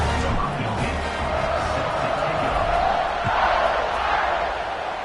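A home crowd cheers at a college football game against Navy, a broad sustained roar of many voices with a commentator talking over it.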